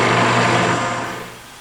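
A drill press cuts counterbores in quarter sawn white oak, a loud close whirring motor hum that fades off as the drilling winds down.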